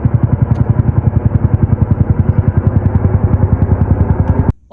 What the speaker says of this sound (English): We got a Chinook helicopter coming by the shop.